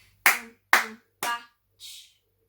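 Hand clapping a rhythm for a music lesson: four crisp, close claps, three evenly spaced and a softer fourth after a short gap, in otherwise quiet surroundings.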